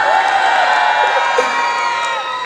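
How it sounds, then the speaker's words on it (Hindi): Children and an audience at a preschool annual event shout and cheer loudly together, a dense, sustained roar of high voices with whoops that stays close and steady throughout. "मेरे लिए तो आप चिल्लाओ जोर जोर से"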